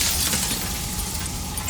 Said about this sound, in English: A crack slides down the center of the mirror, splitting the image in the glass in two.